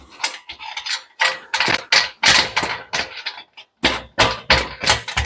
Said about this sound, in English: Now the first thing I need to do is secure the lid. Now I've got these screws on the side.